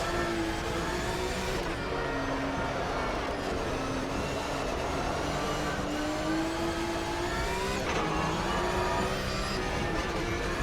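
A Porsche GT3 race car's engine at Interlagos in the racing game Automobilista 2 drones loudly and continuously, pitch climbing and dropping as the car accelerates and downshifts through corners.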